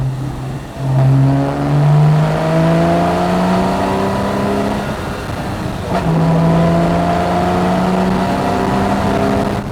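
A Porsche 911 Carrera S (991.1) with sports exhaust revs hard through several gear changes, its exhaust note rising and dropping in steady sweeps, loud and close throughout.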